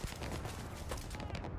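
Shotgun blast in the video game Starfield, a massive explosion: a dense, loud, continuous roar of gunfire and blast noise filling the whole moment without a clear break.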